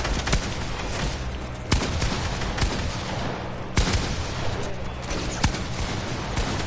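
Video game gunfire as bots are shot for headshots: sharp, loud cracks and bursts at uneven intervals, some isolated shots and some clustered, over a busy background.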